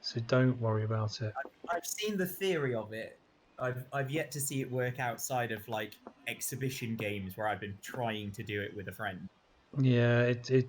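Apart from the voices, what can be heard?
No distinct noise like a dog, phone or traffic.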